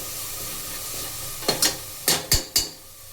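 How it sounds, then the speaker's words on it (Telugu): Chicken curry gravy with onions and chilli powder being stirred in a pan on the stove, a few distinct scraping clinks of the spoon against the pan over a steady low sizzle, close and alone. "సో ఇప్పుడు దీన్ని అడుగంటకుండా ఇలా మధ్య మధ్యలో తిప్పుకుంటూ ఉండాలి"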